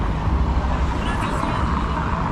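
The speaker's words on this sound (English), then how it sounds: "because this sort of cobbled road just makes cars very noisy" Cars pass over a cobbled street in Peguera, Mallorca, a continuous loud, rough rumble of tyres and engines with heavy low-end road noise and no distinct breaks.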